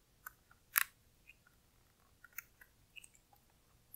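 Battery tabs are pulled out of a wireless keyboard, giving a sharp papery snap followed by scattered small clicks and rustles, close but quiet in a still room.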